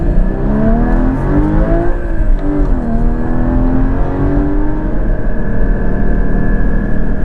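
Porsche 981 GT4 engine pulls loudly and steadily, its note rising and falling through gear changes in a continuous close-up roar with a constant layer of road and wind noise beneath, no talk.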